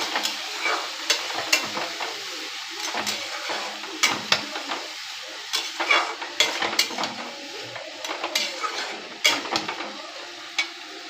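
Soaked red lentils being stirred in a frying pan, with repeated scraping and clinking strokes of the utensil over a steady soft sizzle, close and fairly quiet, no talking.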